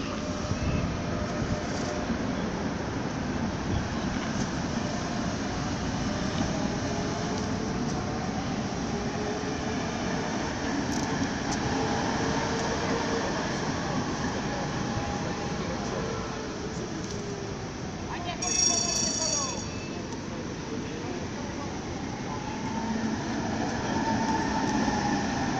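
A Prague tram creeping along near a crash site at Letenské náměstí, a continuous rumbling rail-and-motor drone with a brief metallic wheel squeal partway through, heard outdoors at moderate distance.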